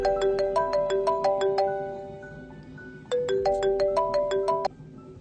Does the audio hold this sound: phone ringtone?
yes